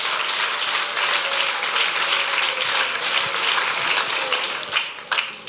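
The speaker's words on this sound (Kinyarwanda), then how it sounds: "Komera Imana amashyi mu izina rya Yesu." A church congregation applauds, a sustained, even wash of many hands clapping that holds steady for the whole stretch before easing slightly at the end.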